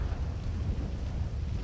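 Steady rain with low rumbling thunder, a dense continuous wash of noise that stays even and fairly loud throughout without voices.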